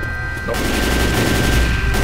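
Assault rifle gunfire in the video game Left 4 Dead 2, with laser sights fitted: a loud, dense burst of rapid shots kicks in about half a second in and rattles on without pause to the end.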